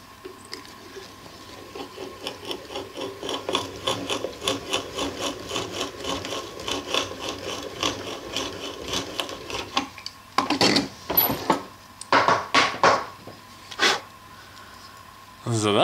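Rhythmic creaking and scraping of a hand brace boring into wood, strokes repeating steadily, then a few louder rasping turns near the end.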